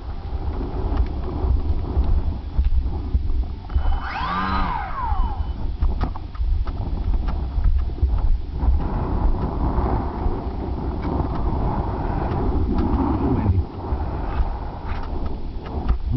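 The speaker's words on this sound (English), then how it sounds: "Lots of wind" Strong wind buffets the microphone outdoors while a DW foamy Juka RC foam plane is flown, a steady loud rumble lasting throughout, with a brief whining sweep of the plane's motor passing partway through.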